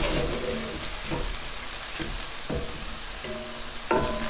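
Ground frozen noodle mixture fries in sesame oil in a pan with a steady close sizzle, broken by a few soft clinks and scrapes of stirring.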